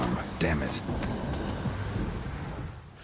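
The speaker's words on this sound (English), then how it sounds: "A storm, damn it." Thunderstorm in The Witcher 3, with a dense wash of heavy rain and a low rumble of thunder swelling early, then steady downpour continuing alone at moderate volume.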